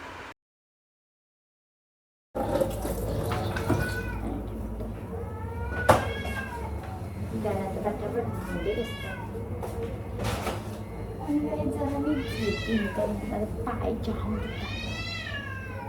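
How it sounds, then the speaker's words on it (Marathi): Several cats meow repeatedly over steady background noise, rising and falling calls spread through the clip after a brief silence at the start, with one sharp knock midway. "माझे फोन मध्ये असं जास्त मांजरींचा आवाज येत असेल असं मला डाऊट येतो"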